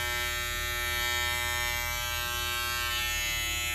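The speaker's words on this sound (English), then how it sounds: "the Wahl Retro T-Cut, it does have a rotary motor" Wahl Retro T-Cut hair trimmer with a rotary motor running steadily at close range, a constant high-pitched electric whine and buzz with no pauses and no voices over it.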